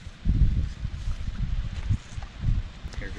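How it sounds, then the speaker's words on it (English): Wind gusts buffet an outdoor cooking spot beside an RV, heavy low rumbling blasts that swell and fade in uneven waves, with faint rustling behind and no clear speech. "I'm having a difficult time in the wind again"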